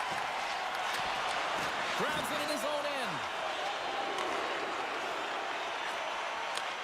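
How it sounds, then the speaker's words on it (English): A home crowd in an ice hockey video game jeers at a player, with a steady wash of arena noise and rising and falling boos in the middle. A commentator talks over it. "really hearing it from the home crowd right now"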